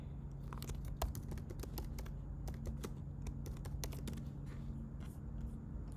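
Typing on a computer keyboard while entering an exam answer during an online virtual examination, with a steady run of light, irregular key clicks continuing throughout over a constant low background hum.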